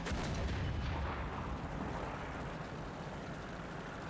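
Anti-aircraft gunfire from a tank battle in War Thunder, with a Centurion Mk.10 in the fight: a dense, sustained roar of repeated booming shots with heavy low rumble, loudest at the start and then rolling on steadily.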